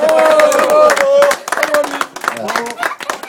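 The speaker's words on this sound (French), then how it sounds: "Et un grand applaudissement à notre ami Latéral Basket." Guests at a veterans' barbecue party in Sainte-Foy-lès-Lyon clap together in a loud burst of applause, mixed with cheering voices, before it thins out into scattered claps and chatter.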